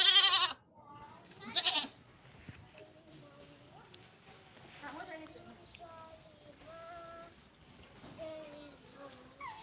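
Goats bleat repeatedly at close range in a village setting, several short wavering calls scattered across the clip amid faint rustling and background movement.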